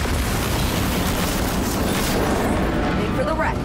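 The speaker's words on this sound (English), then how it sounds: "Hit the ground, it's gonna explode!" Explosion in Cyberpunk: Phantom Liberty: a loud, dense roaring blast that fills the whole stretch, with speech partly buried beneath the rumble.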